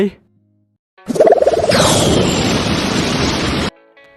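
A loud cannon blast bursts in with a sharp onset, then roars as a sustained broad rushing noise for over two seconds before cutting off abruptly.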